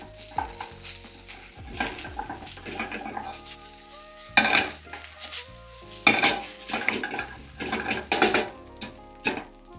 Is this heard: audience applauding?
no